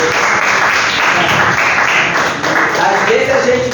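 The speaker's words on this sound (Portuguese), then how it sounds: "Mas salva aí de palmas para esse Deus maravilhoso" A church congregation claps loudly and continuously, a thick, even wash of applause filling the whole stretch, with possible voices mixed in beneath it.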